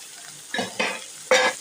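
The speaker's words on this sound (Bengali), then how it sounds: "এই যে পেঁয়াজ কুচি, অনেকগুলো মরিচ ও কুচি করে রাখা হয়েছে, এগুলো কিন্তু একসাথে এখন ভেজে নেব।" Chopped onion and plenty of chilies frying together in oil, heard close as a low sizzle broken by three short, louder bursts of stirring and crackle, with no talking.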